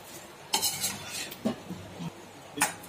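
A spoon stirring bilimbi pickle in a dish, heard as a few scattered clinks and scrapes against the container, close and moderately loud over faint background noise, with no talking.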